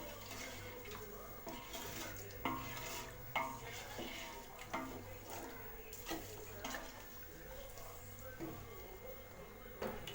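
A ladle stirs a salted chicken biryani mixture in a metal pot, quiet clinks and scrapes in an uneven rhythm over a soft background hum.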